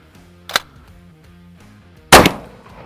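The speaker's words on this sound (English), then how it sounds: "Let's shoot again." Two shotgun blasts fired with duck hunting loads, one sharp shot followed about a second and a half later by a louder, heavier boom with a short ringing tail, both close and alone.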